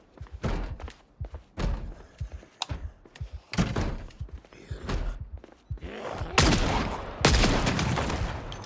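Gunshots fired in the zombie survival game Project Zomboid, a series of loud, booming reports spaced roughly a second apart, with the last blasts heavier and more sustained.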